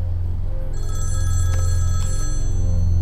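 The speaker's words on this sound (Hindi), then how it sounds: "अब फोन आएगा ना, तू ही बात करना, मैं बात नहीं करूंगा।" A telephone rings loudly and continuously, a bright electronic ring sustained over a heavy low drone in a dramatic film scene, with no talking.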